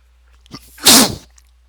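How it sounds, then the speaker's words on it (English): A single loud, close sneeze bursts out abruptly and stops after about half a second, during a tabletop wargame session recorded at home. "There goes my mandatory recording sneeze."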